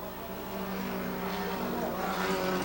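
Race cars roaring along the pit straight of a 1980 circuit race, a continuous dense engine drone that builds slightly louder toward the end, with a commentator talking over it.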